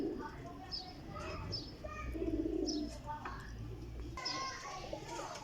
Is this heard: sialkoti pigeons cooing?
yes